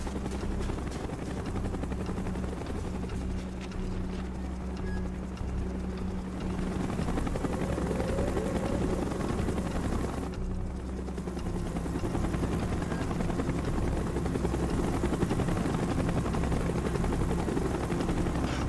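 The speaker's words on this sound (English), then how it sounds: "Chopper's inbound! Move it!" A helicopter roars in during a zombies video game, its steady rotor thump loud and constant throughout with faint scattered gunfire beneath, and no voices.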